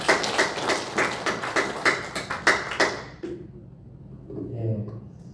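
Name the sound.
church congregation applauding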